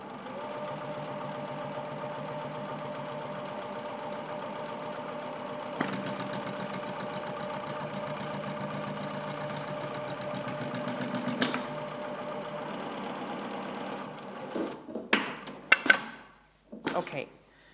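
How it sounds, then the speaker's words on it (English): A DA 670/680 industrial sewing machine runs steadily with its trimmer cutting off excess fabric, a continuous rapid mechanical whir and clatter that speeds up midway, then ends in a few sharp clunks and knocks. "we are cutting fabric extensions which are not required"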